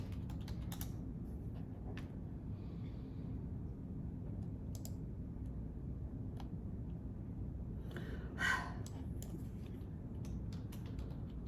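Computer keyboard typing during a workplace login attempt, scattered soft key clicks in short irregular bursts over a steady low room hum, fairly faint and close.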